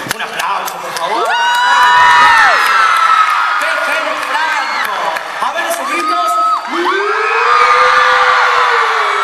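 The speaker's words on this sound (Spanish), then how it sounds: "Un aplauso, por favor." A theatre audience at a stage musical cheers, whoops and shouts loudly for several seconds, a dense crowd roar with voices rising over it, and only a little clapping beneath.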